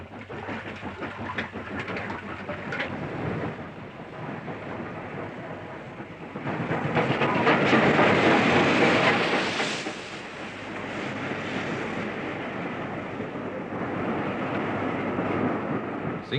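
An LMS Black 5 steam locomotive hauls a train along the single-track West Highland line, a broad rumbling roar that swells loudest midway and then eases back to a steady run.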